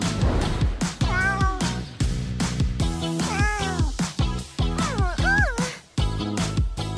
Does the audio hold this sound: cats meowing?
yes